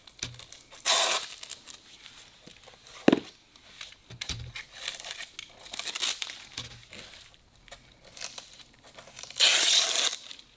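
Roughly fifty-year-old tape being torn and crinkled off the packaging of an unopened 1968 USAF pilot sleeping bag, SRU-15P: bursts of ripping and crackly plastic rustle, close and fairly quiet, with pauses between pulls.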